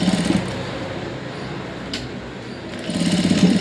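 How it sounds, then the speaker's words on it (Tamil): A sewing machine stitches along the edge of a blouse lining, its rapid mechanical whir running in short bursts at the start and end with a quieter pause between. "இப்போ இது ஓரத்துலேயே நம்ம ஸ்டிச் போட்டுட்டு வந்துடலாம்."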